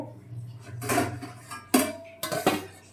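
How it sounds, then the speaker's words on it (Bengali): Metal lid set onto a cooking pot in a kitchen, a few sharp clanks and rattles of metal against metal, close and fairly loud in short bursts. "এবার একটু ঢাকা দিয়ে দেব"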